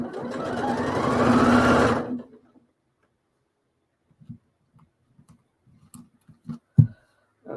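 Sewing machine stitches a fabric book cover in one steady, loud whirring run of about two seconds, then stops, followed by faint scattered clicks and small handling sounds.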